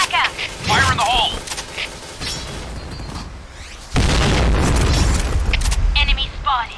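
A grenade goes off in a first-person shooter match: a heavy boom bursts in midway and rumbles on under clipped radio-style game voices and scattered player chatter.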